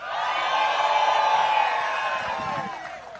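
A crowd at a Lake Fork bass fishing tournament weigh-in cheers and whoops for the tournament director, a loud, sustained roar of yelling voices that holds steady and eases slightly near the end.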